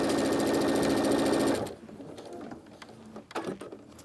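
A sewing machine runs steadily and fairly loud, stitching a quarter-inch seam across quilt fabric for about a second and a half, then stops, leaving quiet handling noises.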